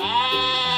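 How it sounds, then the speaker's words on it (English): A single sheep gives one short, close, wavering bleat lasting under a second. "Sheep."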